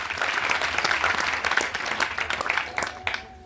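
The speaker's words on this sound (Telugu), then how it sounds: "చప్పట్లు కొట్టి ప్రభువుకి స్తోత్రం చేస్తాను." A church congregation claps in praise during a sermon, a dense, close wave of applause that holds steady and then thins out and fades to quiet at the end.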